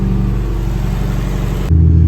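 A car engine with a newly installed CSF OEM replacement radiator revs hard to 6,000 RPM on its first start in a week, a loud steady high-rev roar that drops abruptly to a rumbling idle near the end.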